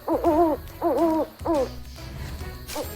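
An owl hoots three times in quick succession, each call a wavering tonal hoot, loud and close, followed by softer trailing sounds as a story sound effect.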